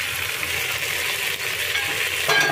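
Prawns and mixed vegetables fry in a pan with a steady, dense sizzle close by, rising briefly at the end as stirring stirs the pan.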